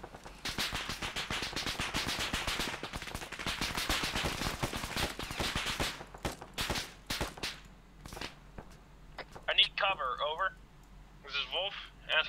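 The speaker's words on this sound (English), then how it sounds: "Suppressing fire on the bunker system." Suppressing fire pours onto a bunker system in a military shooter game, a long run of rapid, loud, close gunshots that thins into scattered bursts, while radio-style voices talk over the later part.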